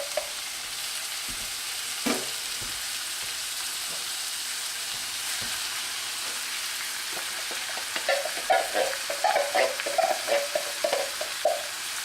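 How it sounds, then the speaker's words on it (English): Spices being stirred around a hot pan of lasagna sauce, a continuous sizzle with a burst of scraping, clattering stirs near the end, close and fairly loud with no talking. "once we get our spices in, just a quick whirl around the pan"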